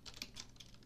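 Quick, quiet typing on a computer keyboard while entering daily takings into accounting software, a run of light clicking keystrokes in steady rhythm with no talk.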